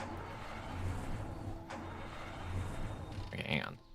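A car engine hums steadily while driving, a low continuous rumble with slight swells and a brief sharper noise near the end.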